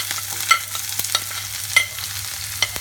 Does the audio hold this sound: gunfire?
no